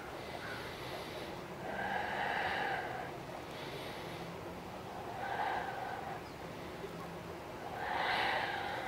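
Slow, deliberate breathing while holding a yoga plank, shoulders over palms and upper back domed: three loud, drawn-out breath swells at steady intervals, close to the listener, with quieter gaps in between.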